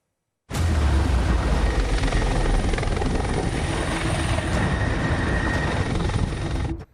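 A coast guard helicopter hovering over a grounded 81-metre ship during a crew rescue off Kocaeli, a loud, dense rotor roar that starts abruptly and holds steady close by until cut off.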